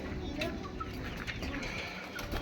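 Pigeons for sale at a busy market, with soft cooing and bird calls scattered over a dense crowd murmur and nearby chatter.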